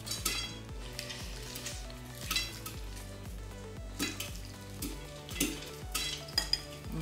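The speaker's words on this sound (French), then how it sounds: "c'est bientôt la fin du chant du popcorn" Popcorn pops in a pan near the end of popping, a few scattered sharp pops over a soft frying sizzle, with music playing underneath.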